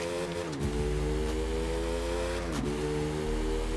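A motorcycle engine in the racing game The Crew 2 drones steadily and loud, its pitch dipping briefly twice as if shifting gears, then climbing again.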